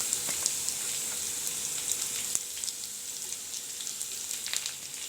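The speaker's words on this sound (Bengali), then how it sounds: "কুচোনো পেঁয়াজটা দিয়ে দেবো" Chopped onion sizzles loudly in hot oil, a continuous bright hiss with scattered pops and a brief scrape partway through.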